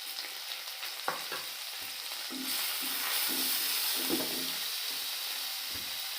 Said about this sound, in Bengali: পেঁয়াজটা লাল করে আমি ভেজে নেব।